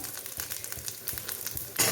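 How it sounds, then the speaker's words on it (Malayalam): Grated coconut roasting in a hot pan for Kerala koottukari, a dense crackling sizzle with rhythmic scraping of a spoon stirring through it, close and continuous, getting louder at the end. "ഇനി നമുക്കിതിലേക്ക് തേങ്ങ ചേർക്കാം നന്നായിട്ട് തേങ്ങ വറുത്തെടുക്കണം"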